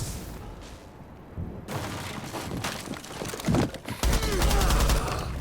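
Gunfire in a shooting video game: bursts of rapid shots and impacts building from a quieter start to dense, loud volleys near the end, with faint voices in the background.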